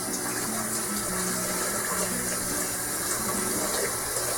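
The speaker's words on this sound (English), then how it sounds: "Now I don't rinse my pickles, but I do rinse the pot that it was in." Tap water runs steadily into a pot while it is rinsed in a kitchen sink, a continuous close gushing flow.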